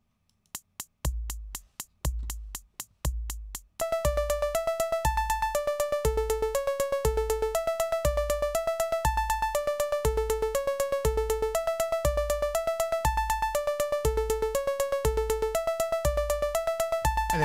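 A VCV Rack sequencer synth voice with a ratcheting gate: a few sparse clicky blips first, then a dense stream of rapid repeated notes stepping through a melodic pattern, steady and clean with no voice.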